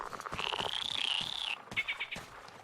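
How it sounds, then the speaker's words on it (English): Small frogs croak in the video game Metro Exodus, a sustained rippling chorus that breaks off and returns as a few shorter calls, moderately close and fairly quiet. "Hey, these little frogs."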